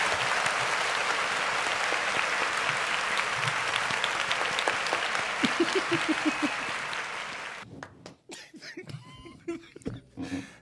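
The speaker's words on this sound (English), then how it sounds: "Give yourself a round of applause." An audience applauds loudly for about seven seconds with cheers mixed in, then the clapping drops away and people talk and laugh close by.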